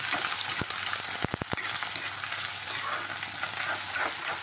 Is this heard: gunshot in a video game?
no